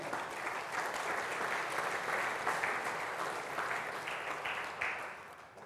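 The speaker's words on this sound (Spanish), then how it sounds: "Dale un aplauso a Dios por esa palabra, amén." Church congregation applause during a Spanish-language service, a sustained crowd of clapping hands that stays broad and even for several seconds, swelling slightly near the end, with no speech on top.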